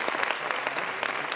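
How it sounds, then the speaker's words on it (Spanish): Applause for Álvaro from an audience at a Fuckup Nights event, a brief burst of many hands clapping at once, close and fairly loud. "un aplauso para Álvaro"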